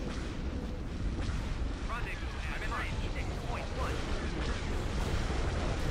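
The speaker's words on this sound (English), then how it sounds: "That gun is still shooting you. It needs to die." Gun turrets fire during a space battle in the Empire at War AOTR mod, a dense, continuous rumble of booming shots under a player's voice.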